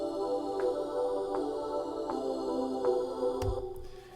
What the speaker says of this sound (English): this is something called Ithaca Vox, which is sort of a synthy, poppy sort of sound